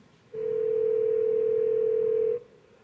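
A telephone ringing upstairs in a house, heard as one steady electronic tone that holds for about two seconds and then cuts off cleanly, with no talk over it.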